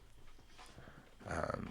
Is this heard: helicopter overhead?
no